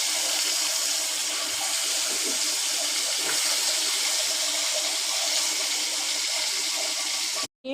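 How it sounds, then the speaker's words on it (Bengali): Fish fries in hot oil with a steady, loud, broadband hiss and crackle that runs unbroken for several seconds, then cuts off abruptly at the end. "এই যে আমি মাছটাকে এখন এভাবে ভেজে নিচ্ছি"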